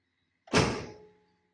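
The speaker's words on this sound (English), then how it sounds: "They should make a little ping when you shut the door." A 1960s Porsche 912 door shuts once with a single solid thunk and a brief ringing tail, close and alone.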